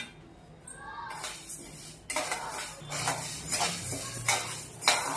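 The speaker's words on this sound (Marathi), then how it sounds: "त्यानंतर ज्वारी भाजून घेऊया" Jowar (sorghum) grains roast in a dry pan while being stirred, giving intermittent scraping and clinking of a utensil against the pan, close and moderately loud after a quieter start.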